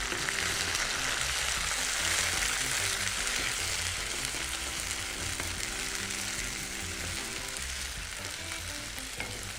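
Hot oil sizzles and spatters steadily as baby corn and fenugreek leaves fry in a pan, a dense continuous crackle that stays close and loud throughout with no talking.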